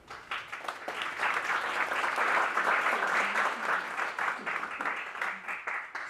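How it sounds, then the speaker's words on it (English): A conference audience at an economics event on the 2024 U.S. elections breaks into steady applause that builds, holds and then tapers off, with the sound of many hands clapping together. "I think that we can applaud them."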